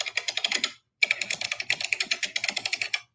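Rapid typing on a computer keyboard, close and fairly loud, in quick bursts of clicks with a short pause near the middle before the keystrokes resume.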